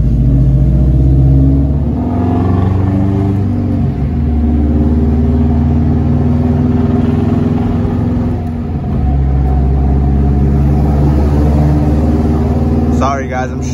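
An engine in a car on a night cruise with Subaru, S2000 and RX8 cars drones loudly and continuously, with several rises and small dips in pitch as gears change, and a faint voice in the background.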